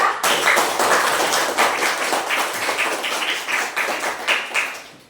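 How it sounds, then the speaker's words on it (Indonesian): A classroom audience claps hands in a dense, steady burst of many overlapping claps, close and loud, lasting several seconds and tapering toward the end. "Tepuk tangan untuk quote-nya ya."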